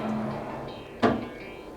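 A bathroom cabinet door in a newly built single-story house, the cabinet holding a hair dryer and power outlet, shuts with one short, crisp knock over faint background hum.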